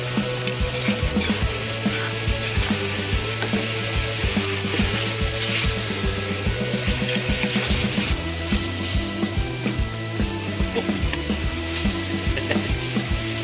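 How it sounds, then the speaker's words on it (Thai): Thai curry paste stir-fried in a pan makes a constant loud sizzle, with rhythmic scraping and clacking of a utensil stirring against the metal throughout. "เราจะคั่วพริกแกงให้สุกก่อนนะ"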